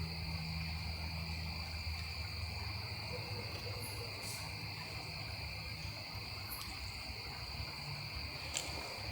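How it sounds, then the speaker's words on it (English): Dense night chorus in the woods at a campsite, with steady high-pitched insect trilling and a continuous low throbbing of many frogs, unbroken and moderately loud throughout. "I think there's a lot of frogs right now"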